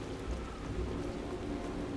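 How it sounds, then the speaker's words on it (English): Steady rain falls in the video game Final Fantasy XIV, a continuous, even hiss of downpour with a low rumbling bed underneath, holding at a moderate level throughout with no talking. "I guess the weather is like, it's raining"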